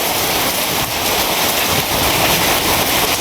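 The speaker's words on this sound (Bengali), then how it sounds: "আর প্রচুর বৃষ্টি হইতেছে" Heavy morning rain pours down in a dense, unbroken hiss, loud and steady throughout with no pauses.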